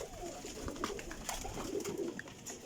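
Soft, low cooing from white pigeons repeats in short murmuring phrases over a light background hiss, fairly close by.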